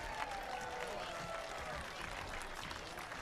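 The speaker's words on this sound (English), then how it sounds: "a young fan gets a round of applause for making the catch on the popped-up bunt" A baseball crowd at a Cape Cod league game gives a steady, moderate round of applause heard from a distance, with clapping and crowd murmur filling the whole stretch.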